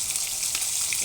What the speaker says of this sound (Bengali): তো দেখো, আমি ভেজে নিচ্ছি মাছগুলো